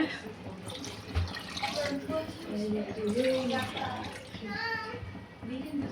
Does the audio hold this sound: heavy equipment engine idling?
no